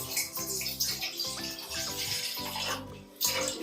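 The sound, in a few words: pouring two glasses of water into a pot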